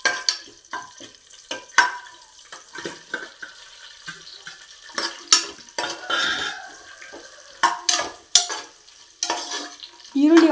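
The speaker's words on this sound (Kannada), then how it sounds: "ಈರುಳ್ಳಿ ಒಂದು 2 ಮಿನಿಟ್ಸ್ ಫ್ರೈ ಆಗಲಿ" Onions frying in a pan with kasuri methi, cinnamon, cloves and cardamom for vegetable pulao; close sizzling with repeated spatula stirs and scrapes against the pan in irregular bursts, no talking.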